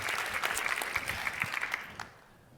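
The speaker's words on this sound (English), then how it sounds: "Oh, you can clap on that." An audience claps at a keynote speech in a brief burst of applause that holds steady for about two seconds, then cuts off into quiet.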